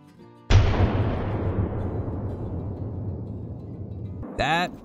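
One loud .470 rifle shot in the Call of the Wild hunting game booms out and rolls away in a long decaying echo, followed by a short tonal game sound at the end.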